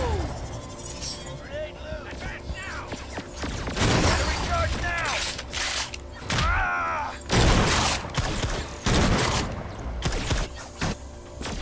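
Rapid bursts of gunfire and booming blasts from the video game Agents of Mayhem, loud and repeated, with short mechanical clatters between them and some talking over the action.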